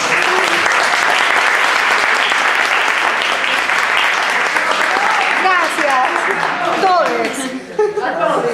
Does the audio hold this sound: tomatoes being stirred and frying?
no